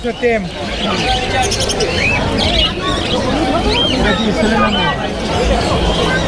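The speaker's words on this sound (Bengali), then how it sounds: "এখানে দেখতে পাচ্ছি অনেক সুন্দর সুন্দর পাখি" A crowded bird market in Mirpur, Dhaka, is full of high chirps and whistles from many caged birds. A steady babble of buyers and sellers and a nearby talking voice run throughout.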